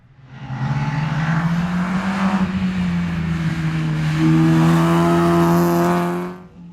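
A rally car in a winter rally-sprint event at Shackleton spins off and bogs down in mud, its engine droning loud and steady with revs climbing and holding high as the wheels churn, then dropping away at the end.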